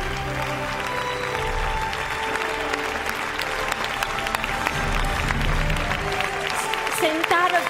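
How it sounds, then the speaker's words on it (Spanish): A large audience at the Premios Feroz film awards ceremony gives a sustained ovation for an honorary award, with continuous loud clapping over a steady tonal backdrop and a voice briefly rising near the end. "esta gran ovación de todos sus compañeros"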